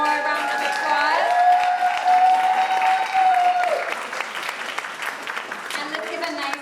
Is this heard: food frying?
no